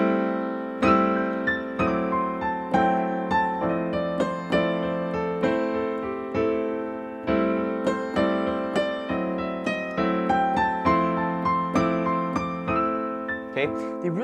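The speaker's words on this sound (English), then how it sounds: "Here's the sound of triplets." Blues piano playing steady triplet figures, bright chords and notes struck in a rolling three-per-beat rhythm with a low bass note underneath, clear and close.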